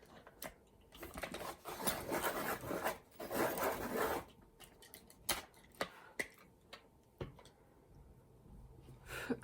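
A Prismacolor colored pencil is ground in a sharpener, producing bursts of dry scraping and rasping over a few seconds, then scattered soft clicks and taps, close and fairly quiet.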